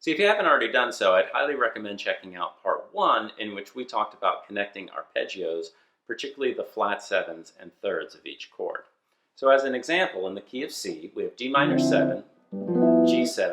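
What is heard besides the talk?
None of the usual background noises is heard.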